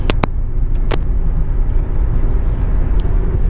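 A car cruises at 95 km/h along the Delhi Mumbai Expressway, giving a steady, loud interior road rumble with a few brief sharp ticks near the start and again later.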